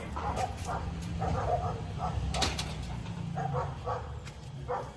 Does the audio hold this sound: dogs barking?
yes